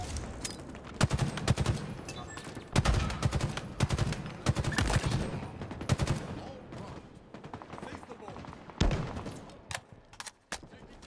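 Shock rifle fire in a video game rattles out in sharp repeated bursts, dense clusters of loud cracks with brief pauses between volleys, while faint voices sit low in the mix.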